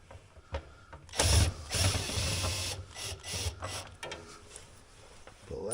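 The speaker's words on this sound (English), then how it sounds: "I can take all the screws off around the perimeter of it." A ratchet takes screws off the clutch cover of a Polaris Ranger 570, its rapid clicking ratcheting coming in short bursts close up, with some handling noise between strokes.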